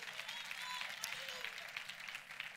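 A church congregation claps together in a sustained burst of applause, a dense patter of many hands that holds steady at moderate volume for a few seconds.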